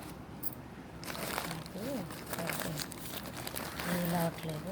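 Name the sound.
plastic cover being handled and folded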